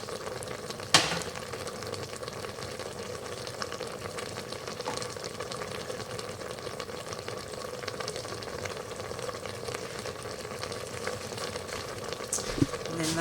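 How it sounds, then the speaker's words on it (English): Water mixed with gravy mix heats on a stovetop, giving a steady, faint bubbling and simmering hiss with one brief clink near the start, no voices present. "I'm just going to get it on the stove and let it boil."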